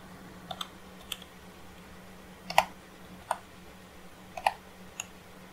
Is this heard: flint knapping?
no